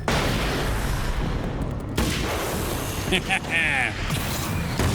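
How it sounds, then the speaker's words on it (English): A flashbang grenade goes off in the video game Alan Wake's American Nightmare, giving a dense, roaring burst of noise that fills the whole clip. A sharp jolt comes near the middle, and fainter sweeping game sounds trail after it. "You guys definitely deserve a flashbang."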